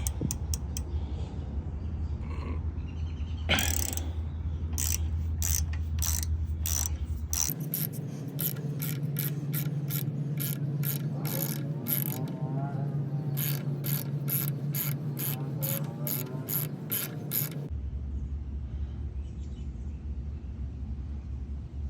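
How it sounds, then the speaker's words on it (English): A ratchet clicks rapidly in repeated runs while removing brake caliper bolts on a 1978 C10 truck, close and steady mechanical ticking over a constant low hum, with brief pauses between bursts. "All right, going to get the caliper bolts off."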